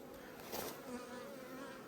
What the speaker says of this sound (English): So this is how the split ended up, guys. 5 full frames, plenty of bees, queen cell.